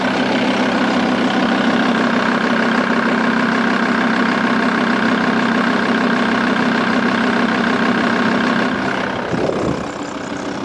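A vehicle engine idles steadily at a roadside stop on a road trip through Russia, a loud, even low drone that holds constant until a brief shift near the end.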